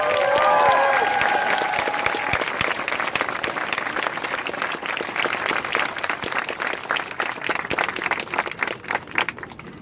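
An outdoor crowd at a Pride flag raising applauds a men's chorus, a dense roar of clapping at first under a brief sustained tone, then thinning into sharper scattered claps toward the end.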